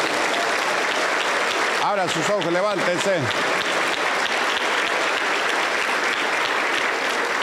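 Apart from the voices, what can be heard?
church congregation applause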